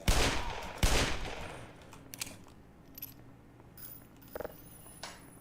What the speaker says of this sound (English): I know there's some magnum ammo just there, so I'm going to waste some on these zombies.